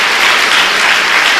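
Church congregation applauding in praise, a dense, steady wash of many hands clapping together that stays loud and even throughout, with no talk over it.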